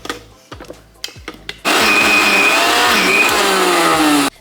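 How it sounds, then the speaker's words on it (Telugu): Soaked moong dal is ground into paste in a mixer grinder, a few short tapping knocks, then a loud, steady motor whir that hums continuously for a few seconds before stopping abruptly. "మేము ఈ కన్సిస్టెన్సీతో గ్రైండ్ చేసుకున్నాము"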